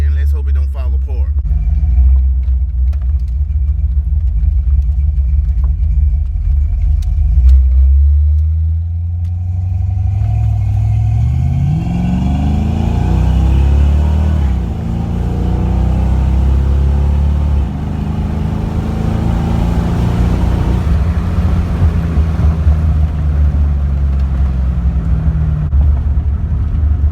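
Foxbody car accelerating hard on a road in Mexico after new spark plugs, a loud, near engine roar climbing steadily in pitch through the gears and holding a heavy rumble throughout.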